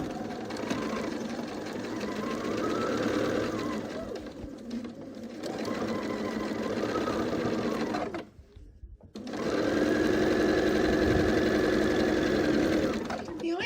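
A sewing machine stitching quilt squares together, running steadily in long whirring stretches with a brief stop partway, while a person talks over it.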